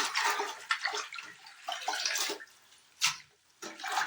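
Fenugreek greens being washed in a basin, water sloshing and splashing in short uneven bursts, close and fairly quiet, with no talking.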